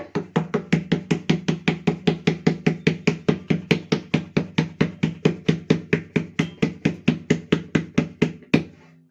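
Corn roti dough for North Karnataka makke jola rotti being patted flat by hand, a steady run of about thirty close, even slaps in quick rhythm with no talk.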